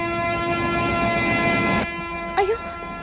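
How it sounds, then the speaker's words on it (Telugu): A train pulls out of the station with a steady rumbling roar that stops abruptly, followed by a short horn-like toot and a voice. "అయ్యో, ట్రైన్ స్టార్ట్ అయింది"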